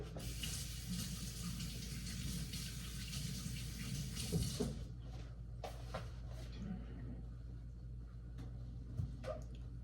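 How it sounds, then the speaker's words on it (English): Hands are rinsed under a running kitchen tap for about four and a half seconds, a loud close splash that stops abruptly and is followed by faint clicks and handling noises in a quiet room. "Just gonna rinse my hands real quick."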